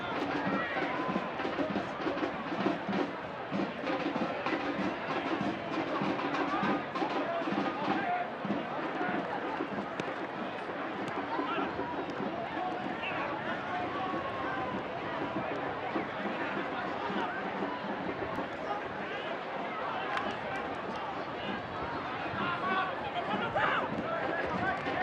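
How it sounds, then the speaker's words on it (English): The crowd at a Phoenix Rising FC soccer match keeps up a continuous roar and babble around the stadium, with a commentator talking over it throughout. "Meanwhile, the ever-vibrant Phoenix crowd"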